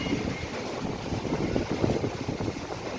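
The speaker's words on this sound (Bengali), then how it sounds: "পাখিগুলোর অবস্থা খারাপ, যেতে পারছে না, এত জোরে হাওয়া হচ্ছে।" Strong wind gusts outdoors in Newtown, Kolkata ahead of rain, giving a loud, rumbling roar with buffeting on the microphone. It holds steady throughout and no voices are heard.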